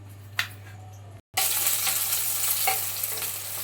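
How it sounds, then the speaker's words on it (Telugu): Brinjal pieces fry in a pan for a green chili, tomato and coconut chutney, giving a close, steady sizzle with stirring scrapes and a brief silent break near the start. "వంకాయ ముక్కలు అయితే వేయించుకున్నాము. వంకాయ ముక్కలు వేగినవి."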